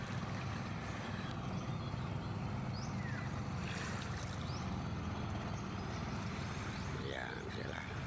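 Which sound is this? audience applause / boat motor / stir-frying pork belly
boat motor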